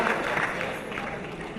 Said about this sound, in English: a big round of applause for all our sponsors